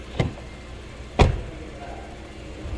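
Two sharp knocks about a second apart, a Ford Fusion car door being shut or latched, close by against a quiet background hum.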